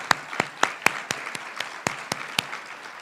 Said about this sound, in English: Let's give Dana another round of applause.